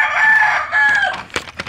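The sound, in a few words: chicken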